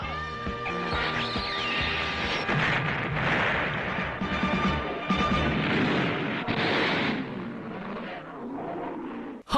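Cartoon gunfire in a Hindi-dubbed episode of the animated series Cyborg 009: a sustained volley of booming shots and blasts, mixed with tonal effects, that continues for several seconds before cutting off.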